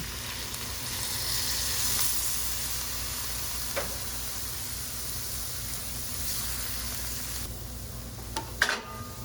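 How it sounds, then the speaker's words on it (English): Shrimp stock poured into a hot pan with snow peas sizzles in a steady, broad hiss that holds throughout, with a few faint clinks of the pan near the end. "I'm going to go ahead now and add 2 cups of our shrimp stock"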